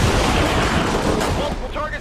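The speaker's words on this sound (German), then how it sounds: "Man beachtet, dass erst die Explosion kommt." A grenade explodes in the XCOM 2 video game, a loud broad blast that decays over about two seconds, with the game's voices mixed in.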